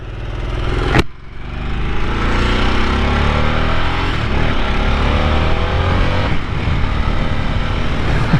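A 2021 Harley-Davidson Sportster S motorcycle rides along a road, its engine a steady close rumble with rising pitch as it accelerates through the gears, after a sharp bump near the start, continuous and with no talk.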